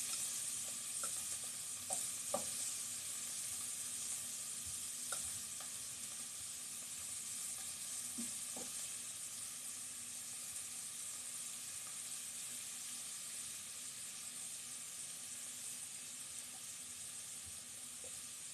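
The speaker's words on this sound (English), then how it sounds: "when you hear the sizzle kind of go down" Beef pieces seasoned with soy and pepper sizzle steadily in a hot pan, a continuous crackling hiss with occasional faint clinks, no talking.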